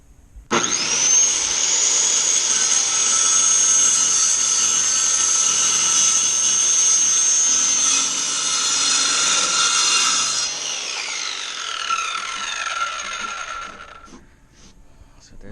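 A saw cuts through wood for work van shelving with a loud, steady whining drone of about ten seconds that shifts pitch partway through, then winds down and fades.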